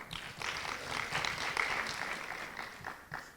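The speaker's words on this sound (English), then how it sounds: "A round of applause." Audience applause at a school debate competition, a soft, dense wash of clapping from a hall crowd that swells slightly and then thins toward the end, with no talk over it.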